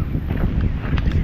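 Wind gusts across a farm during heavy rain, a dense low rumble with buffeting against the microphone and scattered patters, close and steady throughout.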